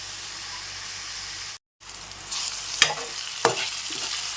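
Bitter gourd curry simmers and sizzles in a pan on low heat while a spoon stirs it, giving a steady hiss broken by a brief gap and a couple of sharp scraping clinks.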